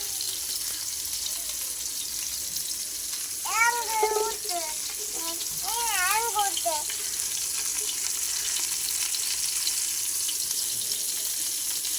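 Water is poured over a person's hands to rinse them during home fish-fry cooking, a steady close rushing splash lasting the whole stretch, with brief voices breaking in partway through.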